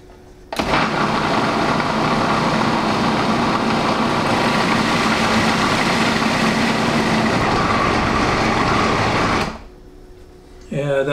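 A food processor runs steadily as ice water is added all at once to pastry dough for a quiche Lorraine, a loud continuous whirring churn that stops abruptly, leaving a quiet room.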